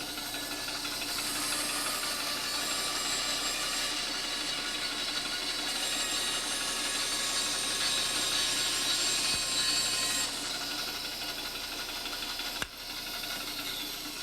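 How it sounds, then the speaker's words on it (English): Shopsmith bandsaw resawing a piece of wood with a wide blade, a continuous loud hissing, buzzing cut that runs steadily, eases off near the end, then gives a brief clunk. "Always put the widest blade you can get on your bandsaw to do this."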